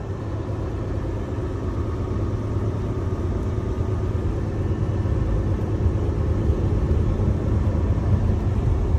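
A UD automatic truck engine runs steadily in Japan, a continuous low rumbling idle that holds even and fairly loud throughout, with no voices.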